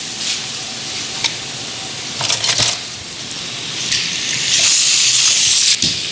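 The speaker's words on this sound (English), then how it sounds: "You hear the sizzle?" Boneless pork with geera sizzles steadily in a hot pan, a continuous close frying hiss that swells toward the end, with a few short clatters of stirring.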